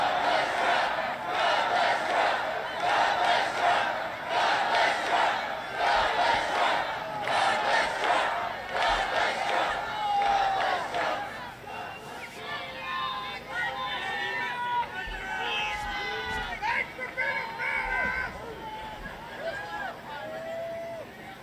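A large crowd at a Trump and Elon Musk event shouts and cheers loudly in rhythmic surges, then breaks into scattered, excited yelling and whoops for the rest of the stretch.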